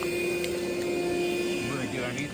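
A cordless shop vac hooked to the oil fill port of a 2003-2005 Ford Excursion Powerstroke engine drones with a continuous, even suction roar and a faint whine, while someone speaks over the noise.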